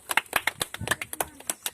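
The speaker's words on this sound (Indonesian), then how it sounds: "Ya, tepuk tangan dulu untuk Albert." Classroom applause for a student, a short burst of scattered, uneven hand claps from a small group, fairly close, with voices murmuring underneath.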